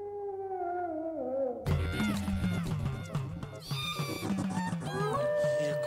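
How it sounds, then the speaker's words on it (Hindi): A dog whines and howls in long wavering tones, first alone, then under a sudden burst of loud, busy music and noise. "कुत्ता रो रहा है,"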